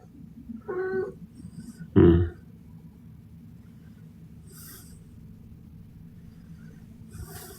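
A cat gives two short, fairly loud meows about a second apart against a low background hum, with faint higher chirps and noises following later.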